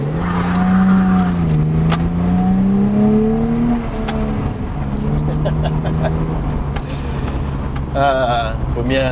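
BMW E30 with a ZF 4HP22 EH automatic gearbox spinning its wheels on old tyres, engine revving loudly with a rising and falling note, then a sharp tyre squeal near the end, with a voice heard briefly.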